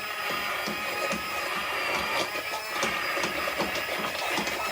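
A Princess House immersion blender runs continuously while blending soup, giving a steady, loud whirring motor drone with slight wavering as it is moved up and down, heard alone without talk.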